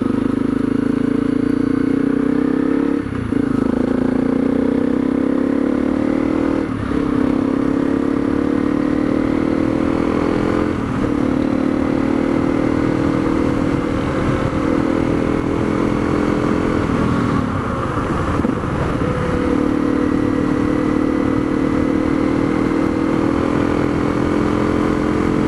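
Honda CRF250L dual-sport motorcycle riding a muddy dirt road in sunny weather, its engine droning loud and steady throughout with pitch shifting on throttle changes and constant wind rush, close up.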